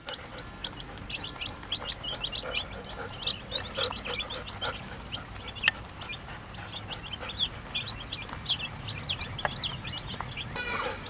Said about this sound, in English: the newest animal that we have, other than the baby rabbits, are new chicks that we bought at Atwood's for meat, to be meat birds